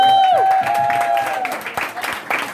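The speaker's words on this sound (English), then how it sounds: "Give her a round of applause." Applause from a fan-event audience for a questioner at a Sheamus Q&A, dense clapping building under a host's voice and fading into scattered claps.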